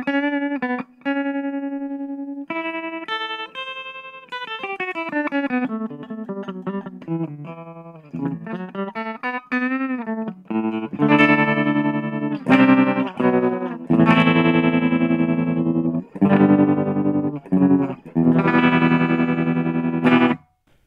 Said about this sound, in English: And a little bit more of the tremolo effect.